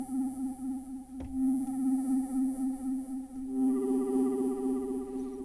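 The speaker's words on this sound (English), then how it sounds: "Let's say we wanted some delay." A synthesizer holds a sustained, slightly wavering tone with a ping-pong delay effect, and a second pitch joins partway through over a brief low thump. The sound is steady, moderately loud and close, with no voices.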